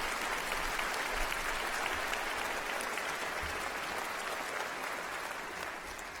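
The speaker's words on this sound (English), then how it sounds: "Could we have a round of applause to thank them," Audience at a university Encaenia convocation ceremony applauding volunteers and staff, a steady, even roll of many hands clapping in a large hall, sustained for several seconds.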